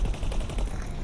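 Rapid bursts of ship gunfire in the space game X4, a dense, fast rattle of shots at steady volume through a short stretch, with no talking.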